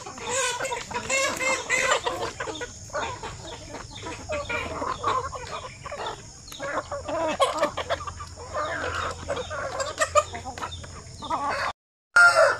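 Chickens and roosters packed into a confined coop cluck and call in frequent overlapping bursts, nearby and fairly loud, with a crow among them and no talking.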